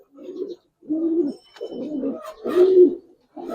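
An orange female Giribaz pigeon coos in a series of soft, throaty, pulsing calls, about five close phrases with short gaps between them.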